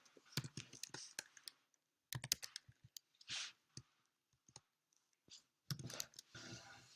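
Computer keyboard typing heard up close but quietly, in irregular bursts of sharp clicks separated by short pauses, with no one talking.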